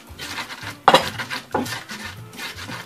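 Hard clinks and scrapes of pepper being ground with salt in a bowl for akple sauce, a few sharp knocks against a busy patter of small scraping sounds, close and fairly loud.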